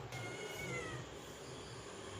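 A house cat facing off with a scorpion indoors lets out faint, drawn-out meowing yowls over a steady low background hiss, quiet and somewhat distant.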